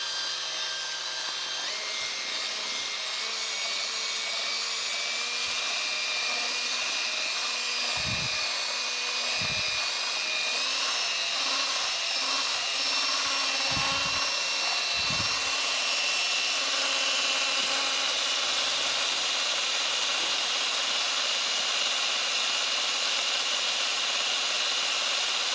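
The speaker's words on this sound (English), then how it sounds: "I think it's an absolute must if you're using a powered mixer like this" A powered mixer running while stirring epoxy, giving a constant high whirring drone with a few low knocks and bumps against the container, close and steady throughout.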